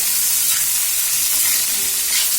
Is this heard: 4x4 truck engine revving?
no